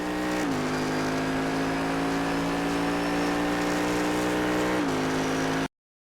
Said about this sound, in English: then full acceleration once you feel the car's under control